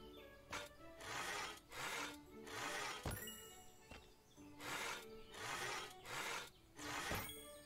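A saw cuts wood at a sawmill in the farming game Everdream Valley, a regular back-and-forth rasp of about ten close, even strokes heard on its own.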